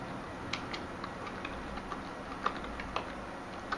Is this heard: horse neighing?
no